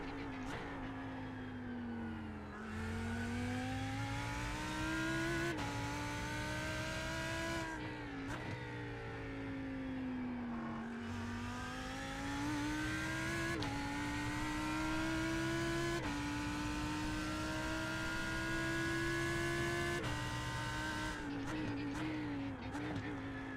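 Race car engine in the iRacing sim game, a steady loud high-revving drone that climbs through gears with brief drops at shifts, running continuously with no talking.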